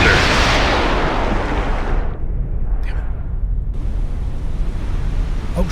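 A submarine torpedo launches from its tube in a naval video game, a loud broadband whoosh and rumble at the start that thins into a low, sustained underwater roar with a brief rising swish midway.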